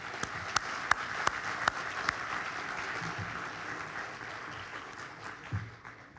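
Applause from a dinner audience at an awards dinner, a few crisp close claps over a broad wash of clapping that fades and softens toward the end, heard at a distance.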